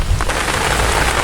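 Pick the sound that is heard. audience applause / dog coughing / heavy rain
heavy rain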